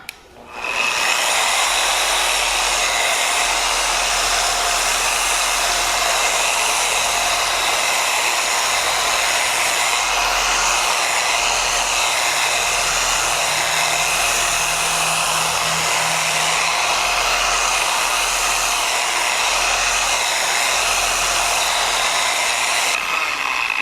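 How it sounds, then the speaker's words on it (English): A power polisher buffs the slightly dulled paint on a Harley Davidson motorcycle after cutting compound, giving a steady, loud whirring drone that runs unbroken and close throughout with no talking. "we're going to focus our polishing on all this area where I use that cutting compound"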